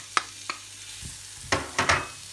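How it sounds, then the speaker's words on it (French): White onions drop into a hot pan and start to sauté, making a few soft spatters and then short bursts of sizzling with quiet gaps between them. "Donc, maintenant, je mets les oignons blancs"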